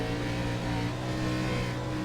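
Race car engine in iRacing's ARCA Menards Series at Southern National, holding a steady droning tone as the driver eases off the throttle, loud and close with no talk.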